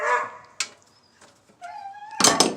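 A household dog barks indoors during a Maytag appliance teardown, with a couple of sharp, loud yips near the start and a burst of louder barking at the end, separated by a whining tone and quieter gaps.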